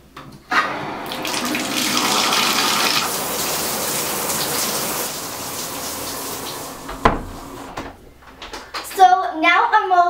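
Water runs steadily from a home shower for several seconds as a broad, even hiss, then cuts off with a few knocks and a brief voice near the end.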